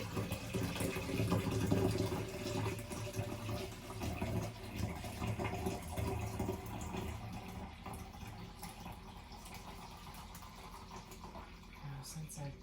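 Liquid pours steadily into a sink while film-developing chemicals are prepared, a continuous rushing stream that is loudest at first and slowly eases, with a person talking over it.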